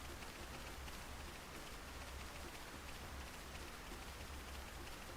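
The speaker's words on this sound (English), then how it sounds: "Oh, it's raining!" Rain falls in Xenoblade Chronicles Definitive Edition as a steady, soft, even hiss that carries on unchanged throughout, quiet, with no talking over it.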